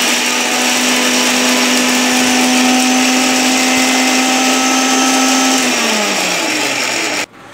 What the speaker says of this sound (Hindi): मिक्सी में एक फाइन पेस्ट तैयार कर लीजिए।